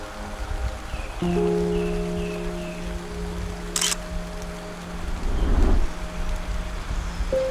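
Steady rain hisses on a misty hillside throughout with a constant low drone and a few faint bird calls; one sharp click cuts through partway.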